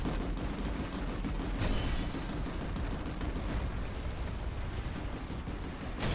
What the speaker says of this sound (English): I can shoot them with a cannon.